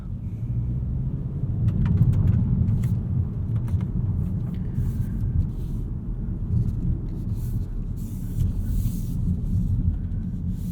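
A 2022 Mazda3 2.5 Turbo AWD hatchback cruising at night, a steady low road and engine rumble heard from inside the cabin, with soft tyre noise and no talking.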